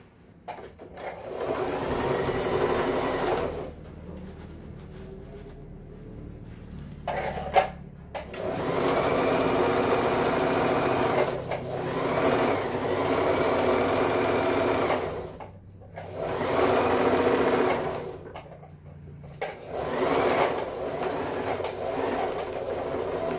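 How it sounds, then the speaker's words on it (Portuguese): A sewing machine stitches the sides of a waterproof thermal lunch bag in several long bursts of rapid, steady whirring, separated by brief pauses. "Então, eu vou costurar essa parte aqui primeiro. Primeiro as laterais."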